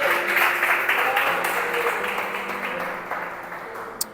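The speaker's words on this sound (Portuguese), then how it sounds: "Você pode aplaudi-lo esta noite?" Church congregation clapping during a sermon, a broad, roomy patter of applause that slowly fades across the clip, ending with one sharp clap near the close.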